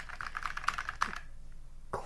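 Keys typed on an Apple IIc keyboard with mushy, not-quite-clicky switches: a quick run of close, moderately loud keystrokes for about a second, then quiet with one final tap.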